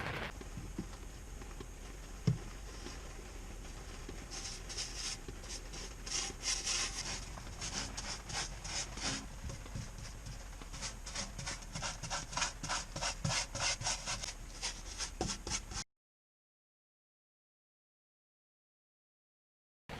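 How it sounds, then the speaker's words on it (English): Brushing or wiping rust inhibitor onto the steel hull of a narrowboat being repainted, a steady close scraping rub with rhythmic strokes through most of the stretch, then silence near the end. "I'm now going to treat it with the rust inhibitor."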